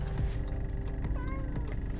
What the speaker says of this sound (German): Alle sind am Miauen.